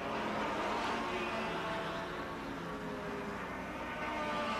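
Distant roar of 1957 Formula 1 cars, including Ferrari and lightweight Maserati machines, racing past at the Nürburgring Nordschleife, a steady broad engine drone with no distinct passes and no talk.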